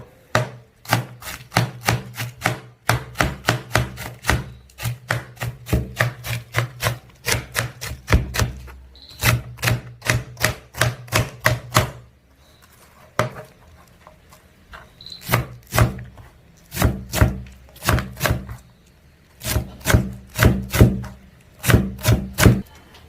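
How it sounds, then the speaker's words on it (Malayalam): A knife chops vegetables such as cabbage finely on a cutting board for restaurant-style chicken fried rice. Rapid, crisp knocks come in quick bursts separated by brief pauses, close up and with no talk. "വെജിറ്റബിൾ എല്ലാം ചെറുത് നൈസായിട്ട് കട്ട് ചെയ്യണം. നല്ല ചോപ്പായിട്ട് കട്ട് ചെയ്തെടുക്കണം."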